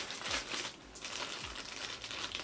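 Plastic packaging around a handbag crinkles and rustles as it is opened with scissors, a few close crackling bursts and scrunches over about two seconds.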